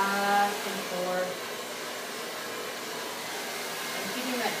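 A salon hair dryer blows hair in a steady, whooshing roar with a faint whine near the start, continuous and close throughout.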